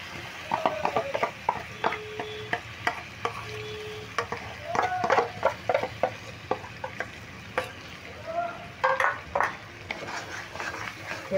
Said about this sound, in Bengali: এবার ডালের পেস্টটা দিয়েও মশলার সঙ্গে ভালো করে কষিয়ে পুরটাকে রেডি করে নিতে হবে।